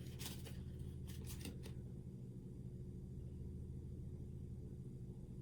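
Tarot cards are shuffled in a few brief, soft riffling bursts during the first two seconds. After that only a quiet, steady room hum remains.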